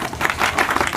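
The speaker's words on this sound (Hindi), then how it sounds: "ताली हो जाए।" Brief clapping from a class of students applauding exam toppers, a quick burst of hand claps, fairly loud and close with no talk over it.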